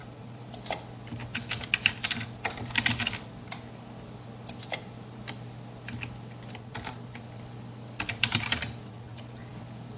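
Someone typing answer choices on a computer keyboard, producing irregular bursts of close, crisp key clicks separated by short pauses, with a faint steady hum underneath and no talking.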